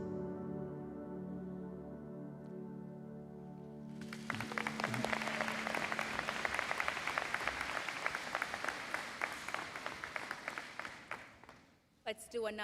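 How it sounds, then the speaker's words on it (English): Graduates at a Niagara College spring convocation are cheered with a swell of dense audience applause that runs for about eight seconds and then fades, following a held musical chord, with a brief burst of noise at the end. "Let's do another round of applause for all our graduates in honor of their incredible journey as NC Knights."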